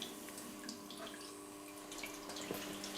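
Homemade soy milk straining through cheesecloth into a larger vessel and down into a pot, a continuous soft trickle of liquid with scattered small drips, close and fairly quiet.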